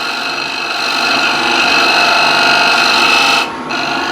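Gouge scraping hard across an uneven surface with heavy force, a continuous loud grinding rasp that holds steady, dips briefly near the end, then resumes.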